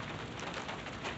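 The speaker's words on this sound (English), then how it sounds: "here comes the rain" Rain comes down during a thunderstorm as a dense, even patter and hiss, soft and continuous for about a second, with no talk over it.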